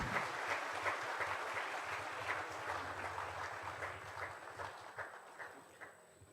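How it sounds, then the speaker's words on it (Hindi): Audience in a hall breaks into applause at a felicitation ceremony, a dense patter of clapping that gradually thins and fades toward the end, with a low hum underneath. "एक बार जोरदार तालियों से हाल गूंज जाए ऐसा आवाज चाहिए।"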